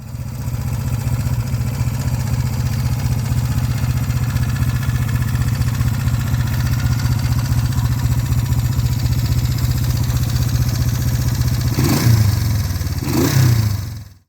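A Honda CB350 motorcycle rides around a parking lot, its mid-pitched engine droning steadily and close for most of the span, ending with two brief revs before cutting off.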